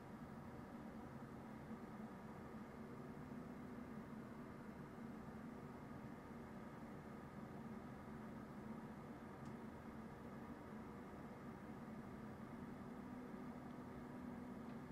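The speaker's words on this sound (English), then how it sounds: "What you just heard was the collective humming of all the fans inside of this Be Quiet system." Fans inside a Be Quiet PC with an MSI RTX 5080 Expert OC graphics card spinning around 1600 RPM hum faintly and evenly throughout, a soft constant whir with no talk.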